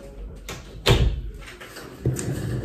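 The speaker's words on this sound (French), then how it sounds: "On va fermer la porte" A door at home is pushed shut, with a muffled shuffle, one firm thud as it closes, then a softer knock and rattle.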